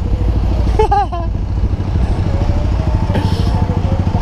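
Motorcycle engines idle at a motorcycle event's opening ceremony with a steady low rumble, a few revs and a faint horn-like tone rising briefly above the constant drone.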